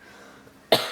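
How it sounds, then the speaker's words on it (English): A single sharp cough bursts out near the end after a quiet stretch, close and loud, with a short throaty tail. "Let me cough really quick."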